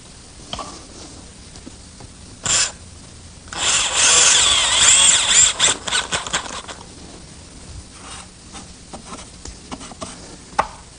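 A power drill drives rust-treated self-drilling screws into a wooden outdoor planter rail: a loud whirring burst of a couple of seconds, then short grinding pulses and faint clicks between quieter pauses.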